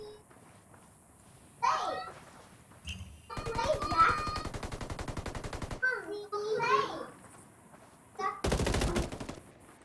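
Gunfire in a PS4 Ghost War league match, sharp single shots and long rapid automatic bursts beneath a commentator's voice.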